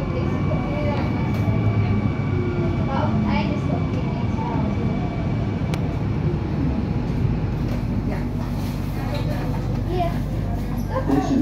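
Continuous rumbling and rattling of a GVB Amsterdam metro train, line 52 on the North-South line, heard from inside the carriage, with a voice talking over the steady noise.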